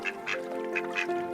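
Several ducks quack on a pond in a run of short, nasal calls, fairly close and clear over a steady background hum, with no talking.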